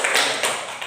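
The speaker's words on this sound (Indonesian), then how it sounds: "Tepuk tangan untuk Elga." Classroom applause for a student named Elga, a brief, close burst of clapping that ends in under a second.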